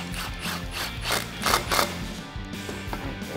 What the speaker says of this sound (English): grab an 8mm socket and tighten that clamp